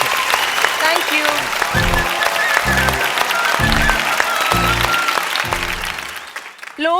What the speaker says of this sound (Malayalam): ഇന്നത്തെ പോലെ ഓഡിയൻസ് നല്ലൊരു കയ്യടി കൊടുക്കും ഇന്നസെന്റ് ഏട്ടനെ.